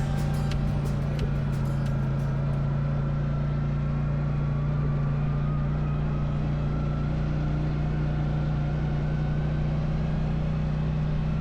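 Side-by-side UTV drives along a rocky mountain road in the Lost River Range, its engine a steady loud drone with rumbling jolts from the rough surface, continuous throughout.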